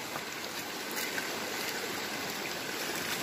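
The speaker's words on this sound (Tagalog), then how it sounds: "Malakas pala ang pressure ng tubig dyan." Strong, steady rush of water from a stream inside Callao Cave in Cagayan, a dense continuous broadband flow that stays even and close throughout with no other clear sounds.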